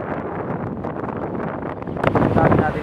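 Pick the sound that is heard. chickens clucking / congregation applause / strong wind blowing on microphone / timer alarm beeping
strong wind blowing on microphone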